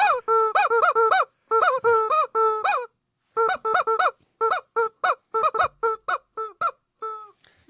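Rubber chicken toy squeezed over and over, giving loud honking squeaks in quick uneven bursts with short silent gaps between them and no voices.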